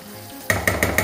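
Spice masala for a crab gravy frying in oil in a pan, a short burst of four quick stirring scrapes over a sizzle, close-up.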